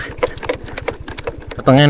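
A motorcycle engine putters in a steady, rapid chug while riding a rough road toward a highland village in Brebes, Indonesia, while a person talks over it nearby.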